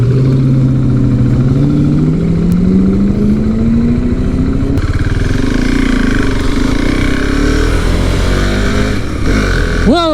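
Husqvarna Svartpilen 701 single-cylinder motorcycle engine under way, loud and close, revving up with rising pitch, dropping at a shift, then climbing again through steady acceleration with wind noise.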